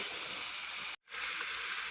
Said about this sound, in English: it's getting a good sizzle on it, so we'll just keep letting it cook